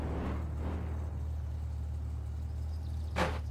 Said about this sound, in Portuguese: Esse carro anda demais